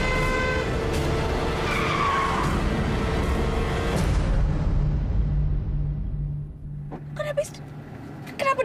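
A car driven recklessly skids with a long, loud tire squeal and engine roar that fades after a few seconds, followed by short knocks and a brief voice.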